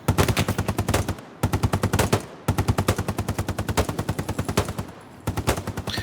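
Rapid, loud bursts of machine gun suppressive fire in Hell Let Loose, four long strings of shots broken by short pauses.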